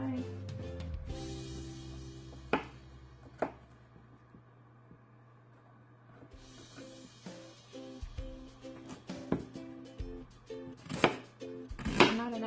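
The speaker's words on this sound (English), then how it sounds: "So you're gonna take your onion, just chop it, and take that little tiny piece out inside." An onion being chopped on a home kitchen cutting board, a series of sharp knife knocks spread out over time with someone talking under and between the cuts.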